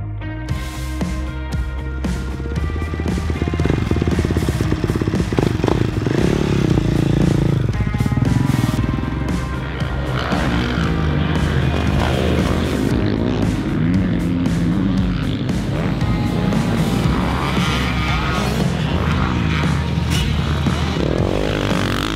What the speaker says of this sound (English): We're gonna go ride it and tell you what we think.